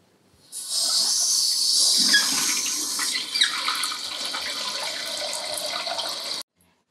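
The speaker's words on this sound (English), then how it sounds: "you want to turn the water back on to the tank" Toilet tank refilling after a flapper replacement: a steady, close hiss of water rushing into the tank that starts abruptly, runs for several seconds with a slight shift in tone midway, then cuts off sharply as the supply stops.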